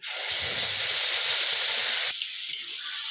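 Ground spice paste hits a hot pan for a vegetarian cauliflower roast and sizzles loudly as a dense, hissing spray of noise. It drops abruptly to a lighter, thinner crackle partway through.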